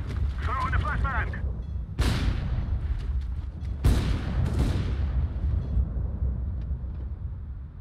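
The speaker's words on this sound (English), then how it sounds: "Flashbang out. Throw in the flashbang." In Counter-Strike on the Overpass map, flashbangs thrown by the player make two sharp, loud bursts a couple of seconds apart, each fading into a rumbling tail, with a voice briefly heard at the start.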